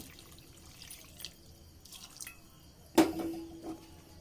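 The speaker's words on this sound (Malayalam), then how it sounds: "ഇനി നമുക്കിതിലേക്ക് വെള്ളം ഒഴിച്ചു കൊടുക്കാം" Hot water is poured into a hot pan of chicken roast at close range, a sudden splash with a brief sizzle that fades after a few quiet drips.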